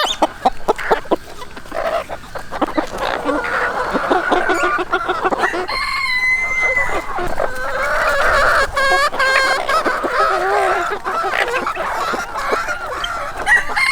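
Red roosters and hens cluck and crow near a keeper offering snacks, with continuous close clucking and a few drawn-out crows throughout.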